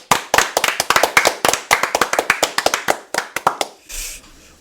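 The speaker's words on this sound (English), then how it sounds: "Let's give it a round of applause." Brisk hand clapping in a sports talk show studio, a quick run of sharp, distinct claps from a small group for about four seconds before it stops.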